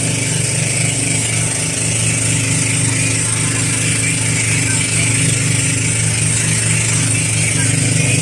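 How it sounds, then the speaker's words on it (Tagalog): Boat engine running loud and steady throughout, a constant droning hum with strong low tones and hiss, close by and unbroken, no pauses or changes in pace. "Masyado maingay yung makina natin kaya hindi masyado marinig yung boses natin yan."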